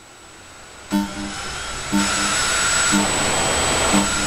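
A turbine bike's whining engine drone in Project Gotham Racing 4, rising in steady steps about once a second like gear or throttle surges, loud and continuous with no talking.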